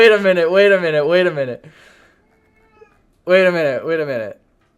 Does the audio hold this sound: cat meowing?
yes